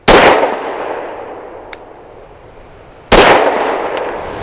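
Two sharp pistol shots from a BUL Armory Axe FS Cleaver firing ARX Inceptor 65 grain rounds, spaced about three seconds apart, loud and close, each with a ringing decay and a faint metallic tick between them.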